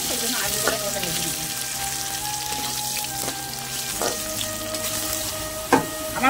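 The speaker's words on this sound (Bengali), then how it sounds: "সেই জন্য আলু কটা ভেজে নেবো।" Potato pieces frying in hot oil in a pan, a steady close sizzle with occasional scraping clinks from stirring, and no talking.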